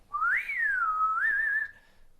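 A single sustained whistle made with the tongue, imitating birdsong, gliding up, dipping, then rising and holding before fading out, close and clear.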